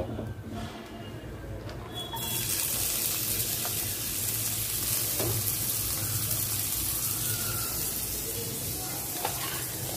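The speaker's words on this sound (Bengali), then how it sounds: "এখন জাস্ট পেঁয়াজ দিয়ে একটু ভুনা করে নিব" Fried fish cooking with onions in a pan, a steady bright sizzle that swells after a couple of seconds and carries on loud and continuous, with faint stirring beneath it.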